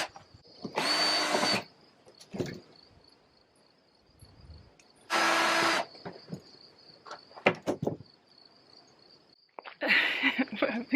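Power drill driving a self-tapping screw into a wooden chicken coop: three loud whirring bursts of about a second each, separated by quiet gaps with clicks and handling knocks, alone and fairly near.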